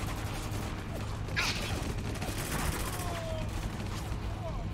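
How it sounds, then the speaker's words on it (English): Gunfire in the video game Spec Ops: The Line: dense, continuous bursts of shots and rattling mechanisms, with a few sharper cracks standing out in a busy combat mix. "Where am I getting shot from?"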